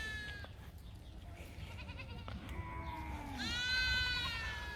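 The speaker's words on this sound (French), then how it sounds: "Les chèvres qui grimpent partout." Goats bleat by a roadside in Morocco, several wavering calls overlapping across the stretch, some faint and distant and a louder one near the end, over a low rumble of background noise.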